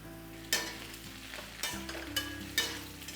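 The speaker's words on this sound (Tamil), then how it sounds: "இது வெங்காயம் பாதி வதங்கிடுது" Onions sauté in a pan while mango pachadi is being made, giving a soft steady sizzle with several sharp scrapes and stirring knocks. The sound is quiet and close, with no talking.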